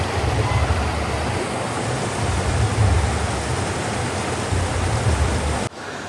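Water rushes steadily through a village culvert drain in Konkan, a loud, continuous broadband wash close by that drops off abruptly near the end.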